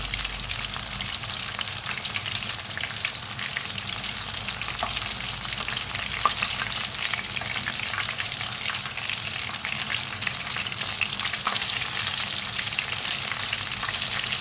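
Finger fish pieces, Lahori style, fry in oil over a medium flame, an even, dense hiss and bubbling crackle that holds steady throughout with faint background clatter.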